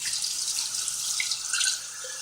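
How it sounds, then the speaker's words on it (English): Tap water runs steadily into a bottle for a little over two seconds, a close, even hiss and splash with a few brief gurgles near the end, heard alone while cooking a Cajun chicken broccoli pasta in a home kitchen. "Now we're going to just take a little bit of water."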